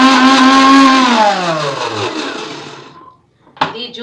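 A Preethi Zodiac juicer motor whirs loudly with soapy water inside for cleaning, its pitch sliding downward as it winds down over about three seconds, followed by a short clatter near the end.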